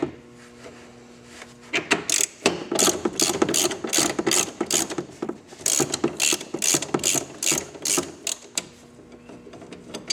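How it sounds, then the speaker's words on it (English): A ratchet wrench removes a bolt from the trunk of a Victory Vision motorcycle, with close bursts of quick ratcheting clicks coming in uneven runs and brief pauses between strokes. "now when you start taking this bolt out"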